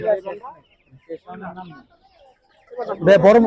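Chickens and roosters at a busy Bangladeshi poultry market cluck in short broken bursts, with a louder squawking outburst near the end, close by and mixed with voices.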